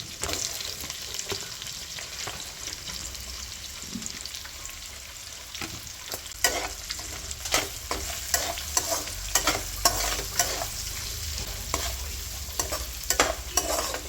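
Onions and green chillies frying in a pan for egg paneer fried rice, a steady sizzle under repeated scraping stirs that grow busier and louder in the second half; no voices.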